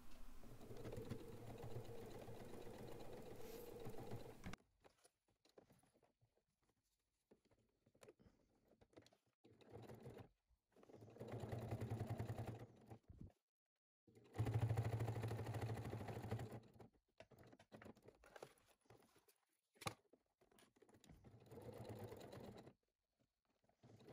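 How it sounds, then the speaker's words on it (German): A sewing machine stitches close along the pressed, clipped edges of a fabric bag in several short, quiet bursts of rapid mechanical whirring. Near-silent pauses fall between the runs, with a longer run at the start. "die umgebügelten aufeinander klammern und einmal dort entlang nähen, knapp an der Kante."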